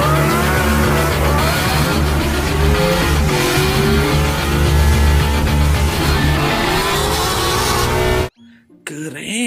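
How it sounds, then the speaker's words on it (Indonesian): Toy race car with a loud, continuous engine-like whine and revving roar, with some squealing, playing up close for about eight seconds before cutting off abruptly. "Wow, wah, mobil balap."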